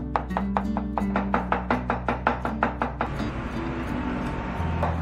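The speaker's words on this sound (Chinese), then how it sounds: "然后再改刀切丝。" A knife chops a carrot into thin strips on a cutting board, about fifteen quick, even close taps over three seconds, then a quieter stretch of faint kitchen noise with no speech.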